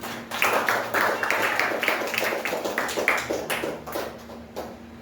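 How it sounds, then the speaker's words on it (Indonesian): A small group of students claps hands in a classroom, a run of sharp, irregular claps lasting several seconds at moderate loudness with a steady hum underneath, fading near the end. "Tepuk tangan dulu untuk kita semua."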